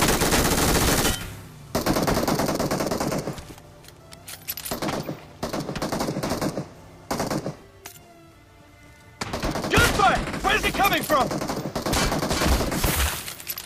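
Kar98 sniper rifle and other gunfire in the mobile battle royale game BGMI, loud sharp shots and rapid bursts in several clusters separated by quieter gaps, without speech.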